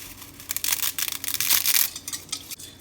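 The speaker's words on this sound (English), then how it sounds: "Snap the pasta in half." A bundle of dry fettuccine pasta snaps in half with a quick burst of sharp, close cracks and crackles, loud and clustered over a couple of seconds.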